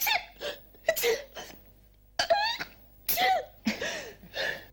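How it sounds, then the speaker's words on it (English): A girl sneezes repeatedly in a children's cartoon, a string of sharp, close bursts with short breaths and gasps between them. "And she didn't stop sneezing till she was well away from the flower."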